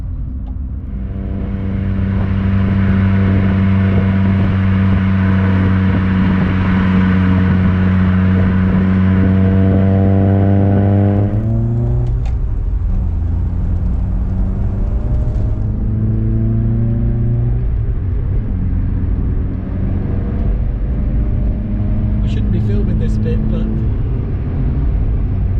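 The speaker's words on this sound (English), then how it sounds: "I thought I'd do one more blast down this road in an RS1600i" A Ford Escort RS1600i engine drones loudly and steadily as the car blasts down a road, holding revs, then shifting down to a lower, rougher note with brief rising pulls; no speech over it.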